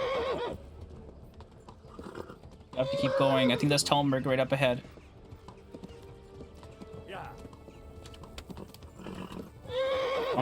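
A horse neighs loudly and its hooves pound rapidly at a gallop in the video game Kingdom Come: Deliverance, while someone talks over the sound.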